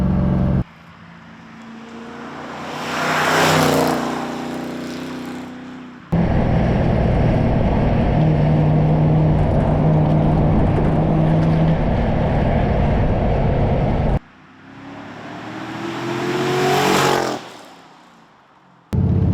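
A 1980 Corvette engine runs at speed, the exhaust rising and falling through surges of acceleration, loud and close, with a long steady high-revving stretch in the middle.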